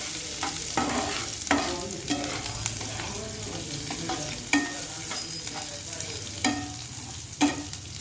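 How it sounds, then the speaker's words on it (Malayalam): Grated ginger, squeezed of its water, fries in a pan for a Kerala-style inji curry for Onam, a lively close sizzle with regular scraping stirs from a spoon. "ആ വെള്ളം ഞെക്കി മാറ്റിക്കളഞ്ഞാൽ എളുപ്പം ഇഞ്ചി വറുത്തെടുക്കാൻ പറ്റും"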